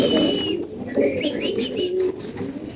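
Racer pigeons at a pigeon farm coo steadily in a close, continuous chorus of low throaty calls, with a few higher chirps mixed in and no talk.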